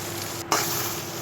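Chilli powder and garam masala being stirred and fried in a pan for potol alu dorma, a brief, steady sizzle with a single scraping stir partway through.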